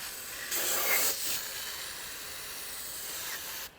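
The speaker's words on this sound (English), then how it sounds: "So run a bit of brake clean around" Brake cleaner is sprayed into a groove in a Massey Ferguson 65 tractor engine. A close aerosol hiss rises in a brief stronger burst, then continues as a softer steady spray before cutting off, with no voices.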